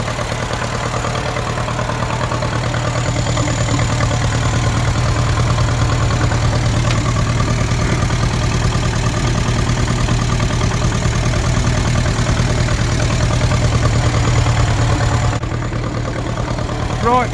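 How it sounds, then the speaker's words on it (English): A 1949 Ferguson TEA20 tractor, fitted with an alternator conversion, runs steadily at a close idle with its PTO spinning, producing a continuous low engine drone and mechanical rattle that holds throughout. "Right, PTO's whizzing round."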